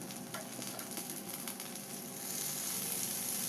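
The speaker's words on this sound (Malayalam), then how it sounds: "സ്പ്രിംഗ് അണിയനൊക്കെ ഒന്ന് വാടുന്നത് വരെ വഴറ്റി കൊടുക്കാം" Eggplant stir fry with chopped spring onion sizzling steadily in a pan as it is sautéed, a continuous close frying hiss that grows slightly louder toward the end, with no talking.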